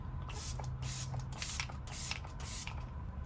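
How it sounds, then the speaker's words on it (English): A steady, fine hiss of e.l.f. Stay All Night Microfine Setting Mist sprayed on a face, delivered in several quick bursts spaced through the clip, close and fairly continuous. "now I'm going to spray my face with the e.l.f. Stay All Night Microfine Setting Mist"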